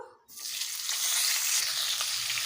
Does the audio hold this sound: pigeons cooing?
no